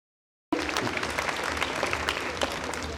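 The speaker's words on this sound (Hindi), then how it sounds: "तालियां हो जाए।" Applause from the audience at a school annual function breaks out suddenly after a moment of silence, a dense sustained roar of clapping that holds at an even level.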